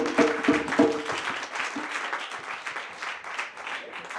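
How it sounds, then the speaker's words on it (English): Applause from a crowd at a St James Town community Black History Month celebration, a round of clapping that starts with a loud burst and then holds steady and dense to the end, with a few voices briefly audible near the start. "But still, a round of applause."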